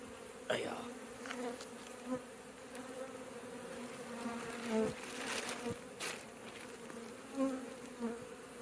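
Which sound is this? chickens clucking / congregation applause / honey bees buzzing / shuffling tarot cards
honey bees buzzing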